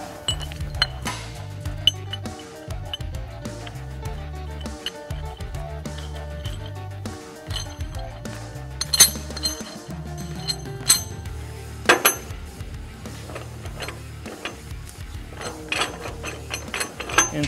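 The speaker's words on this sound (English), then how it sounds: "We'll grab the vise clamp and the tall base and a lock wing nut." Metal parts of a Chief structural vise clamp, tall base and lock wing nut clank, clink and ratchet as they are handled, a busy run of loud close knocks and rattles with no talking.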